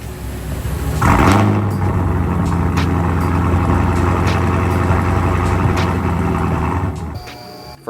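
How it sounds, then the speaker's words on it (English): A vehicle's starter cranks and the engine catches, settling into a steady loud idle rumble for several seconds before cutting off near the end; no voices. "I just wanted y'all to hear this starter real quick"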